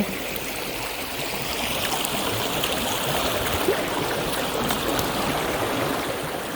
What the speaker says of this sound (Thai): น้ำตรงนี้จะเสียงดังหน่อยเพราะว่าเป็นน้ำไหล